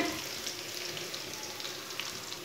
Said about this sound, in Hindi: लहसुन को भी 1 मिनट तक भून लेंगे